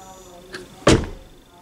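A BMW X1 door with a conventional pull handle opens in one sharp mechanical clunk, preceded by a faint click, close by and alone over a quiet background.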